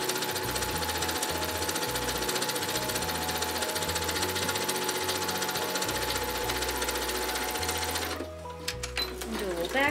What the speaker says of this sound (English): Let the machine pull the fabric in.